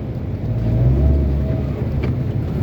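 Road traffic passing near Karancho beach in Lapu-Lapu City, a steady low vehicle rumble with engine hum that swells and holds, heard from inside or beside moving traffic with no talking.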